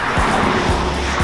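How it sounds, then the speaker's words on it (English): A car passes close by on a road, a loud steady rush of tire and engine noise that swells and sweeps past without any voices. "Oh, another car"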